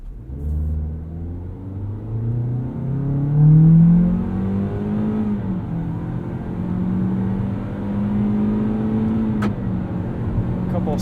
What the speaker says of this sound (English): Let's see how it handles a 0 to 60 acceleration.